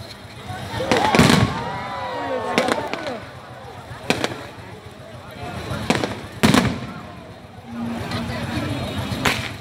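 Lunar New Year fireworks for Tết Kỷ Hợi 2019 in Thái Bình, Vietnam, burst in several loud separate bangs with crackling and whistling tails between them, and voices can be heard faintly in the background.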